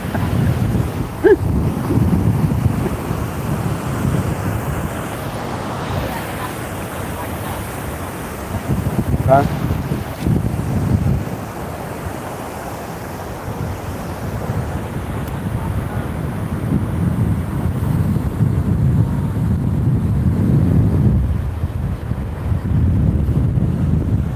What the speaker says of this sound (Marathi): हे आपला कोकणची किनारपट्टी आणि दर्याच्या लाटा